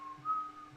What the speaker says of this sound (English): The whistle of innocentness.